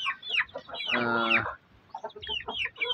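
Native chickens, a hen with her chicks, cluck and squawk nearby in a quick burst of agitated calls, with one louder drawn-out cry in the middle.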